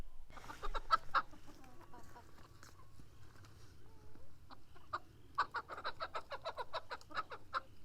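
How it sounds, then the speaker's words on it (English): Chickens and roosters kept on a rural off-grid homestead in South Africa cluck and squawk in scattered, repeated calls, fairly faint and close, with quick bursts of clucking near the end and a low background hum. "These are our chickens."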